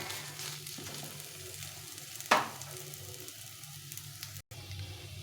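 Whole garlic cloves fry in a pan with a steady, soft sizzle, broken by one sharp crackling pop and a quieter stirring scrape.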